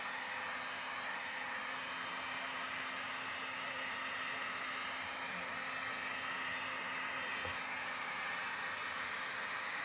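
A heat gun blows steadily while drying a craft project, making a constant, even whooshing roar with a faint tonal whine, unbroken and moderately loud with no talking.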